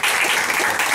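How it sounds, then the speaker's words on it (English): Loud, dense clapping from an audience at a tech meetup in Hong Kong, applauding a speaker, steady and close for the whole short burst. "And a big round of applause to Michael."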